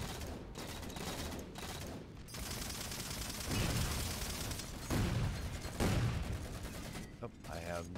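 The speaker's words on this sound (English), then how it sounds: "Man, this needler's good in Halo 4." Needler fire in Halo 4 multiplayer, a dense run of rapid shots and impacts in bursts with brief gaps, loud and close in busy game audio.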